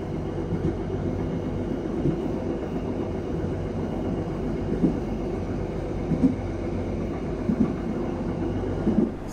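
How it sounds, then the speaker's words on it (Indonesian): The Taksaka express train passing on the adjacent track, heard from inside a moving train as a steady low rail rumble with periodic rhythmic clacks of wheels over joints. "kita berpapasan dengan kereta api Taksaka ya"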